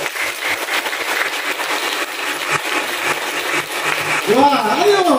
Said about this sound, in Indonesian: saya mengajak kita untuk memberi tepuk tangan yang terbaik untuk Tuhan